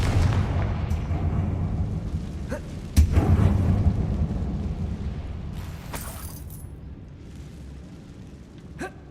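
A Confringo fire spell blasts in the video game Hogwarts Legacy, a loud booming explosion with a rumbling tail, followed by a fainter burst and fading crackle, no talking.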